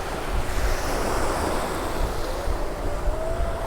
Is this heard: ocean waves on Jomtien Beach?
yes